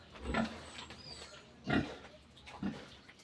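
A sow about 25 days after breeding gives three low, rough grunts, spaced a second or so apart and fairly close, with no talk over them.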